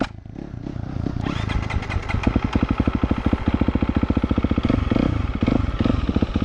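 A KTM 250 XC-F dirt bike engine warms up close by, idling with a steady rapid four-stroke pulse that grows slightly louder and rougher with small throttle blips, with no talk over it.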